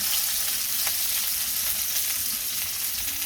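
Hilsa fish frying in a pan of oil, a dense continuous sizzle and crackle at steady loudness, with a few faint clicks and no voices throughout.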